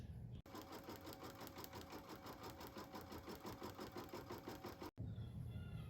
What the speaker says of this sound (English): I'm gonna put it back in my machine and it's gonna run the next placement stitch